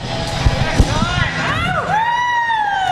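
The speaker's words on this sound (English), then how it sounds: "He's got the crew out here giving him applause." Crowd at a USA BMX Grands event cheering, whooping and shouting, loud and close, with a continuous wash of voices through the whole stretch.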